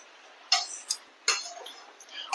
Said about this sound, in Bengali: গ্যাসের ফ্লেমটা লো রেখে ওল আর মশলাটাকে নেড়ে চেড়ে 5-7 মিনিট কষাবো।